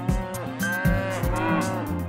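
Cows on a grass-fed mountain farm mooing: several overlapping low, drawn-out moos in quick succession, loud and close, with no talking.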